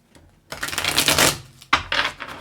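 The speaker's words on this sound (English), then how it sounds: "Let's do one more pre-shuffle" Tarot cards are shuffled in two quick bursts of dense riffling and slapping, close and crisp, separated by a short pause, with a faint soft sound before the first burst.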